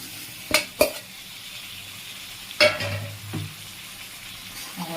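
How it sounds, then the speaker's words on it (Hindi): Chicken added to oily, fried masala for an Assamese-style chicken curry, a low steady sizzle broken by a few sharp spoon clanks and scraping stirs against the pan. "देखो अभी हमारा मसाला फ्राई किया हुआ हो गया है, अभी ऑयल छोड़ने लगा है। देखो मैं चिकन को डाल देंगे"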